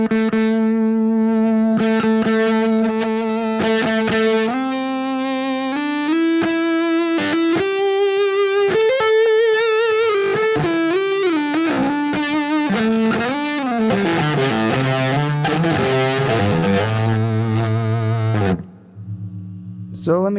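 Electric guitar played through a fuzz pedal, heavily distorted sustained notes and chords stepping through changing pitches and bends, loud and continuous, ending with a brief low rumble.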